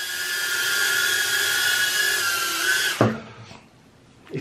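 An Eachine Trashcan micro drone flies indoors with a loud, steady high-pitched motor whine that cuts out sharply near the end, followed by a short clatter and quiet.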